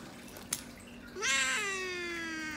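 A house cat gives a single drawn-out meow close to the mic in a quiet room, rising then sliding down and trailing off, preceded by a faint click.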